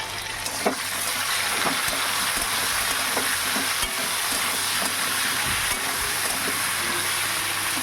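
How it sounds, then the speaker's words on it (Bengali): Potatoes and taro with turmeric and Kashmiri chili powder frying in a pan, a steady loud sizzle throughout with occasional spoon scrapes and knocks as the pieces are turned, no voices. "হলুদ গুঁড়ো দিয়েছি আর এক চামচ মতো কাশ্মীরি লঙ্কার গুঁড়ো দেবো দিয়ে ভালো করে নাড়াচাড়া করে নেবো"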